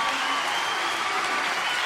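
A crowd applauds steadily at a horse tribute for a retired four-star eventing horse and former Rolex USEF four-star champion, a dense, continuous wash of clapping with faint cheering mixed in.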